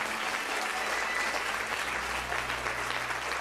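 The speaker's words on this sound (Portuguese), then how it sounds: "Dê um aplauso bem forte ao Rei da Glória, meu irmão" A church congregation applauds loudly, a dense, even wash of clapping that holds steady for several seconds with no voices on top.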